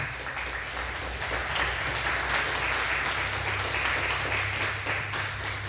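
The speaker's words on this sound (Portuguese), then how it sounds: "Diga glórias a Deus e vamos aplaudir a Jesus." A church congregation bursts into sustained applause during a worship service, thick overlapping clapping that stays loud and even from start to finish, with no voices on top.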